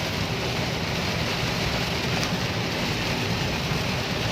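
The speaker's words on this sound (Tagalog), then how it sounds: "Sobrang lakas po ng ulan." Heavy rain pours down in a steady, dense, loud hiss that fills the whole stretch without a break, with no voices over it.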